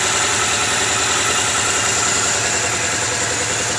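Kawasaki Mule 800 utility vehicle engine idles loudly and steadily up close after its injectors were cleaned, a continuous rumbling drone with a fast, even low throb and no speech.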